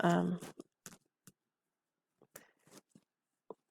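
A deck of playing cards is shuffled at close range in a few quiet, brief riffling bursts separated by silence, following a short spoken phrase.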